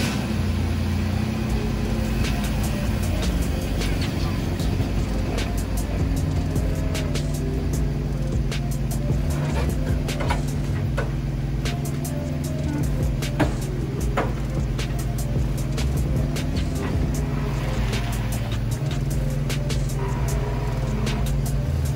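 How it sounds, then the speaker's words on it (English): A Chevy rat rod sitting on air bags rolls slowly away, giving a steady low engine rumble with faint clicks and rattles over it, fairly constant throughout and with no voices. "I'm gonna try and drive it away real slowly"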